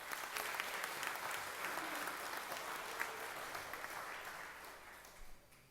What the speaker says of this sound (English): Let's give our Green Hand officers a round of applause.